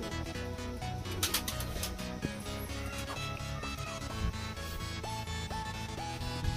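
Pigeons kept by a bird fancier coo softly in the background. The low calls come in short, repeated phrases, faint and somewhat distant, mixed with other ambient noise, and no one speaks.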